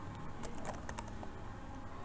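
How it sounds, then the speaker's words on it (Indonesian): Quiet, rapid keystrokes on a computer keyboard typing into a blank Word document, a light irregular clicking close to the microphone over faint room hiss. "kita coba ngetik"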